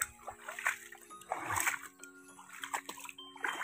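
Floodwater splashes and sloshes at a flooded chicken coop, with soft irregular splashes and trickles, faint and close, and no clear talk.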